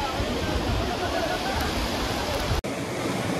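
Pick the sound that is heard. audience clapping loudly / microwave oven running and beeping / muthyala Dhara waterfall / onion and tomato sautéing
muthyala Dhara waterfall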